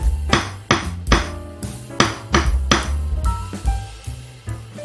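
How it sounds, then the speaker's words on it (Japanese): A hammer lightly tapping a ceramic plant pot to enlarge its drainage hole, letting the hammer's weight drop: a series of crisp, ringing clinks in short clusters, close and clear, with no voices. "このハンマーをね、軽くハンマーの重みでこうやってストンストンストンと落とすぐらいで"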